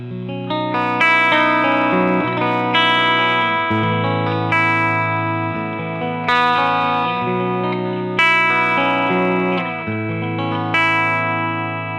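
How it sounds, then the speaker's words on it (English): Clean electric guitar chords ring out in a steady strummed pattern from a pickup in split single-coil mode, bright and slightly glassy with a touch of chorus shimmer, played alone and up close. "when we go down to the clean, I can actually pop this into a split single coil"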